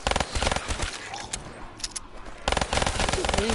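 Rapid automatic gunfire from a weapon in Call of Duty Black Ops 3 Zombies, loud sustained bursts that pause midway and then resume, with game effects and a voice underneath.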